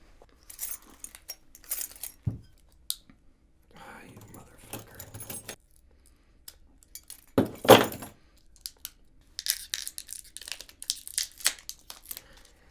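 Scraping, crinkling plastic and small metallic jangles as a key cuts and tears open the wrapping on a Blanton's whiskey bottle, in short bursts with pauses and a louder tear near the middle.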